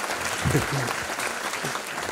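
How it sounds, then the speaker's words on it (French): Audience applause at an inaugural conference talk, a short burst of clapping from a seated crowd mixed with some voices, steady and fairly loud throughout. "elle a droit de grands applaudissements"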